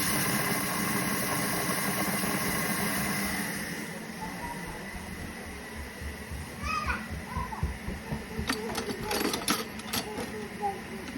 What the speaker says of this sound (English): we're just creaming the butter and sugar together